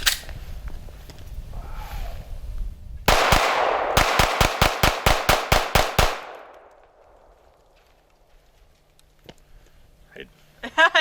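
A Sig Sauer P320 9mm subcompact pistol with rail and night sights fires one shot, then a quick string of about eight sharp shots, loud and close, followed by quiet with faint voices and small handling sounds.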